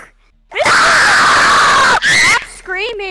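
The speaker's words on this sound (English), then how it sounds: "Screaming!" A child lets out a long, loud, sustained scream that breaks off, followed by shorter shrill cries and squeals, close to the microphone.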